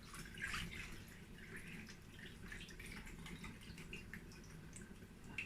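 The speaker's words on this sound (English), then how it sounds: "I'm going to add more water because the water is not enough to cook the yam" Water trickles and drips into a pot of yam porridge, a faint, uneven splashing with a few clearer drops, alone and fairly quiet.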